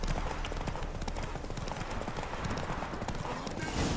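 Horse hooves clip-clop at a steady gallop in The Witcher 3: Wild Hunt, a continuous loud rhythmic pounding that runs through the whole stretch, with no talk over it.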